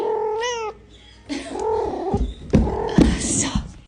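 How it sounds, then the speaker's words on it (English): A cat meows several times up close, a short rising cry followed by longer drawn-out, wavering meows, loud and clear with no talking. "This is the prettiest cat I have ever seen."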